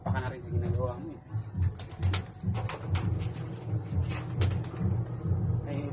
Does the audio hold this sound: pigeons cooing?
yes